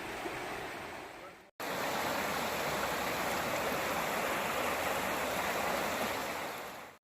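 The West Fork of Stones River in Murfreesboro, Tennessee, rushes past a wilderness trail, a broad, steady wash of flowing water heard close, cut by a brief break early on, with no one speaking.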